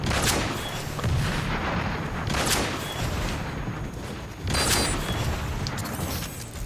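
Gunfire in the Transformers: Rise of the Dark Spark video game on PS4, with three loud bursts of shots spaced a couple of seconds apart over a steady background of battle noise.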